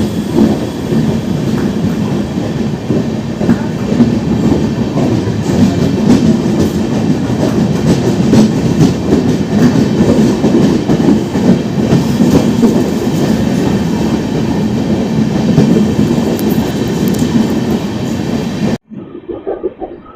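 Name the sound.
Amrit Bharat Express train accelerating out of the station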